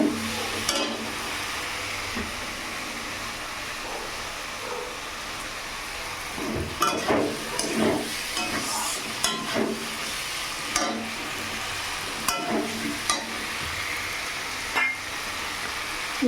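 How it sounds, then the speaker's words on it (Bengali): Potato pieces stir-fried in hot spiced oil in a pan, with a soft continuous sizzle broken by intermittent scraping and stirring clatter from a spoon. "আলুগুলো দিয়ে ভালো করে কষিয়ে নেব"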